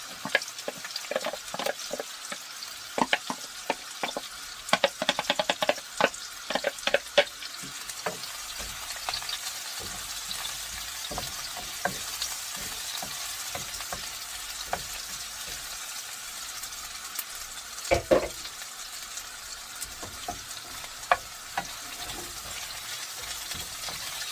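Onions sizzle and fry in a pan, a steady crackle broken by bursts of stirring clatter in the first few seconds, then a quieter continuous sizzle with occasional sharp pops.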